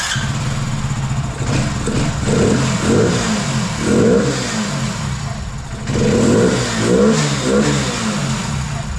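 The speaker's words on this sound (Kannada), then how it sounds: "ರೆಡಿ ಮಾಡಿದ್ದೀನಿ, ನೋಡೋಣ, ಸ್ಟಾರ್ಟ್ ಮಾಡ್ತೀನಿ." A BS6 motorbike engine, just serviced with its carbon-clogged throttle body and injectors cleaned, runs loudly and close, revving up in repeated bursts over a steady idle, with no talk.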